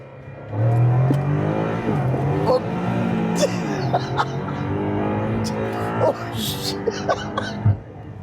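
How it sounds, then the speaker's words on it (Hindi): A BMW M5 F90 Competition engine revs and accelerates with a throaty exhaust note beneath steady conversation, the roar holding throughout at moderate loudness. "नॉर्मल मोड में एग्जॉस्ट भी इसका खुल जाता है, थोड़ी सी आवाज़ भी बढ़ जाती है"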